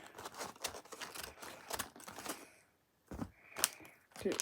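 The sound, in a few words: scissors cutting open a candy bag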